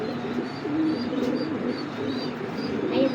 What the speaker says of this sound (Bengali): কবুতরটা খুবই অ্যাক্টিভ।